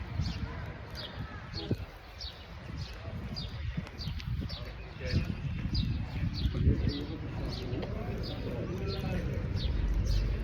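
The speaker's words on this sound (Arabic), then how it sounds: "هاد الصوت الطيور هذا كتسمعوه هنا في الجبال وهنا." Birds chirp in quick repeated bursts from a distance over a muffled outdoor rumble in the city of Tetouan, Morocco, with occasional low cooing.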